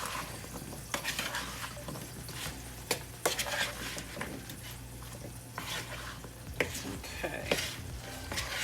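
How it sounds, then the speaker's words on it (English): Ground beef for taco meat frying in a pan and being stirred, a constant crackling sizzle with scraping and clattering utensil strokes at irregular intervals, fairly close. "I've got some ground beef cooking."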